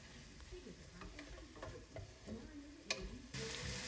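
Seasoned ground meat frying in a pan for chili mac, a soft sizzle under intermittent scrapes and taps as it is mixed, fairly quiet and close.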